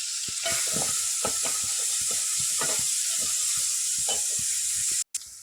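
Onions sizzle and crackle steadily in a hot pan, with scattered pops and the occasional scrape of stirring, close up and without speech.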